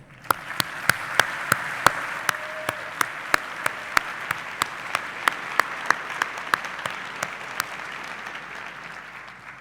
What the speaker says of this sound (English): Please give them a well-deserved round of applause.